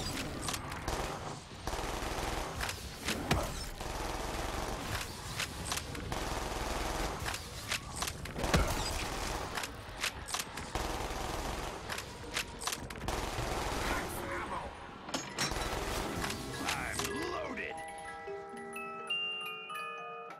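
Machine gun fire in Black Ops 3 Zombies, long sustained bursts of rapid shots repeating over many seconds, loud and close, fading into ringing game tones at the end.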